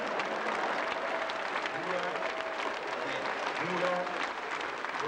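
Sustained audience applause fills a cabaret recital hall during a comedy benefit evening, dense steady clapping throughout with a few voices and crowd murmur mixed in.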